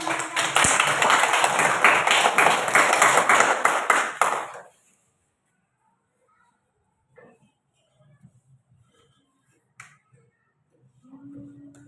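A classroom of students claps in loud, close applause for about four seconds, then it stops abruptly, followed by near silence with faint stray sounds and a voice beginning to speak.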